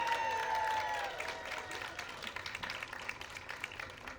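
An audience at a charity fundraiser applauds, a soft, dense patter of many hands heard from a distance after a brief sustained tone fades out.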